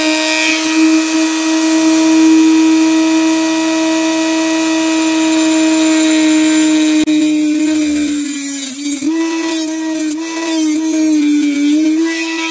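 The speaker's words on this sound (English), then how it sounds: "So I'm just going to use this Dremel." A Dremel rotary tool grinds burrs off a newly made metal sprinkler blow-out tool, throwing sparks, giving a loud, steady high-pitched whine that dips and wavers as the bit bears down on the metal.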